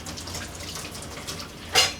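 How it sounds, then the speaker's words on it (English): Juicer parts are rinsed under a kitchen sink tap, with a soft, close water splash and trickle and a brief louder gush near the end. "we're going to go over to the sink and I'll show you how we clean this up. Rinse it off like that."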